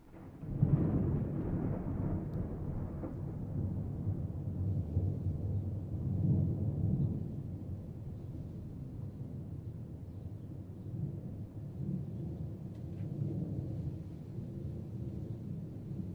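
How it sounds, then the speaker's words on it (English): A long rolling rumble of thunder comes from a spooky lightning stream effect, starting suddenly and then rumbling on at a steady loud level with slow swells for about sixteen seconds, with no talk. "Oh, yeah, that's spooky lightning."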